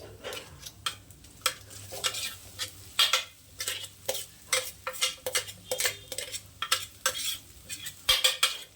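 A ground chickpea mixture for usli fries in a pan with a soft sizzle under frequent close scrapes and clinks of a spoon stirring against the metal, in irregular bursts, with no talking.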